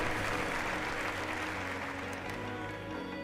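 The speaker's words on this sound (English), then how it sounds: "round of applause then for Daniel Holgado" Applause from the audience at the 2024 MotoGP Awards ceremony in Barcelona, a steady wash of clapping in a large hall with music playing underneath, fading slightly toward the end.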